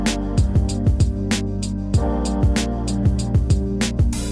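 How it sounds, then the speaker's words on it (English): Programmed hip-hop beat plays with punchy kick drums, snappy hits and sustained chords, and an extra kick lands to close out the arrangement section. Loud, steady rhythm throughout, no voices. "And I want an extra kick there just to kind of finish off that section"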